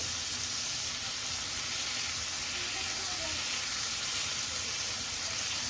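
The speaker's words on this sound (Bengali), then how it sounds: "এই যে এখন ভাজা ভাজা হচ্ছে" A soft, steady sizzle hisses continuously as Adana kebab fries in a hot pan, faint and even throughout with no clear voices.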